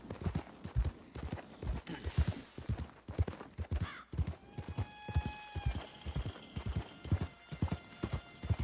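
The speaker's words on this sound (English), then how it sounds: "Come on, horsey, you can do it." Horse hooves clip-clop at a steady, rhythmic trot in Red Dead Redemption 2 Online, close and regular throughout, with a brief whinny-like call and some faint background game sounds.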